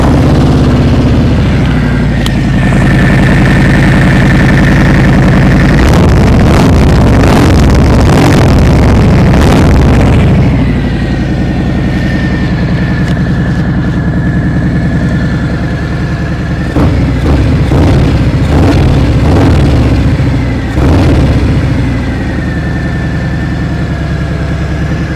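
A Harley-Davidson Fat Bob 114 (2022) motorcycle engine with an aftermarket exhaust runs close by at a steady idle, with a few bursts of revving that rise and settle back to the low rumble.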